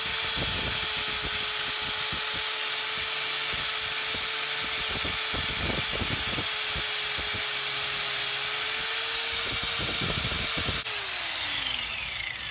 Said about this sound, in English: I'm going to go around it with the angle grinder, just clean everything up, make it as good as it can be